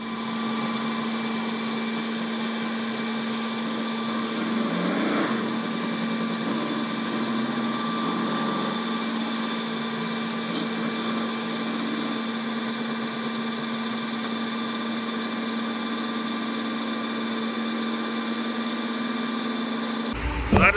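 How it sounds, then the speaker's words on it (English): Farm grain dryer being unloaded after oats, a constant loud mechanical drone with steady fan-like hum and tonal whine, unchanging for about twenty seconds, alone without talk. "That is the process of unloading the dryer."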